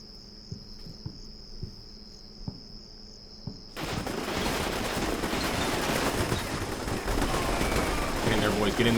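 Infantry small-arms fire in Combat Mission Shockforce 2 during a battle at Idlib, with dense, continuous rattling gunfire over a steady cricket-like chirp, after a quieter start with occasional single shots.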